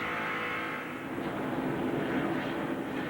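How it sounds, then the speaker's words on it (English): At the 1993 Pepsi 400 at Daytona, a NASCAR Cup race car's engine roars as the driver backs off into a corner and then gets back on the gas, a loud sustained drone that dips slightly and swells again. "Yep, back off a little bit to get in the corner. And right back on the gas."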